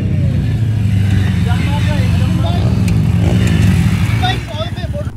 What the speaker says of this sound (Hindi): बाइक बढ़िया चल रही है।